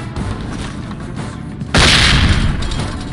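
A flashbang grenade goes off in SWAT 4, one sudden loud blast at the midpoint that cuts through steady background noise and rings on as a bright, sustained wash until the end.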